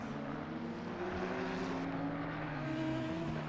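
A McLaren race car roars at Monza in the sim-racing game ACC. The engine note is a steady, loud drone whose pitch rises and falls smoothly through gear changes, with no talk over it.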